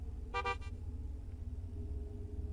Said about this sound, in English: Why does it have the sound effect of a car horn, though?